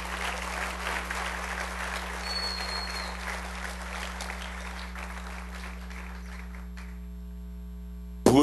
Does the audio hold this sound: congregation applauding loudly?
yes